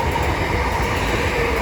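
A Class 465 electric multiple unit at New Cross station on the South Eastern Main Line gives a continuous loud, close rumble of wheels and running gear.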